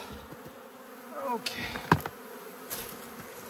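A steady hum of buzzing bees from an opened hive colony fills the background, with a few thumps and handling noises and a brief spoken word.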